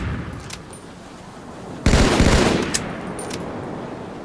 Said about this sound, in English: A double shot consists of shooting and reloading.